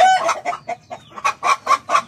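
Native Philippine broody hen clucking on a farm, a rapid series of about eight short, close clucks in an uneven rhythm, clear and alone.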